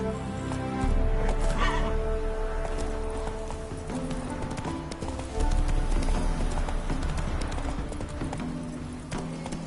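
A horse in The Witcher 3: Wild Hunt on PS4 neighs loudly over the rapid clip-clop of galloping hooves, with game music and ambience mixed underneath.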